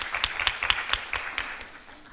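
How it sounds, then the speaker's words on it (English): A few people in an audience at an academic talk clap briefly. The claps are distinct and sparse, then fade within about two seconds. "so we should give her a round of applause."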